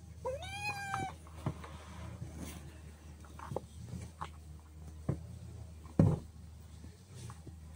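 A cat gives one clear, drawn-out meow near the start, followed by a quiet indoor room with scattered soft clicks and taps.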